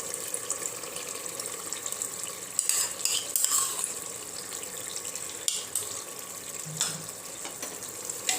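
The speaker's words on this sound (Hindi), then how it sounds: "दही ऐड कर रही हूँ" Yogurt goes into chicken frying in a pan over a low flame, a constant close sizzle with a few scraping stirs and brief splashy bursts, no talking.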